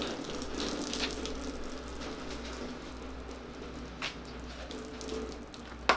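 Water splashes and trickles steadily over turbo diesel engine parts as they are rinsed above a drip pan, a soft continuous running wash with a few small clinks and splashes near the end, moderately quiet with no voices.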